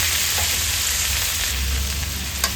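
Sweet corn fries in a pan as masala corn is prepared, giving a steady, close hiss of sizzling oil that runs without a break under a low hum, with no talking.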